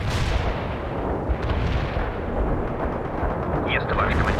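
Artillery barrage in the real-time strategy game World in Conflict, a continuous loud rumble of overlapping distant blasts with a dense low-end roar and a few crackling bursts near the end.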